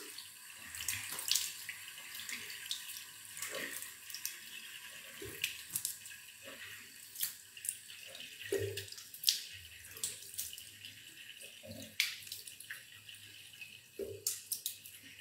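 Tap water runs softly into a sink as hands are washed, with uneven splashes and drips rising and falling across the whole stretch. It is quiet and close, and no one speaks.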